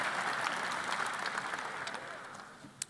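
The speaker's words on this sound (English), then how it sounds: "Please stand and let's give another round of applause." An audience at an arts awards ceremony gives a steady round of applause that fades toward the end, with one sharp clap just before it stops.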